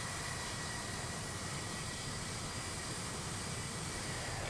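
Engines of a Boeing 737-800 in Delta Airlines livery, heard in a flight simulator through an add-on sound pack, give a steady, even roar and hiss that stays constant with no voices.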